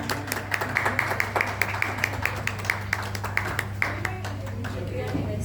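Audience applause at a meet in Ajmer: steady, crisp clapping from a gathered crowd with a constant hum beneath it, moderately close throughout.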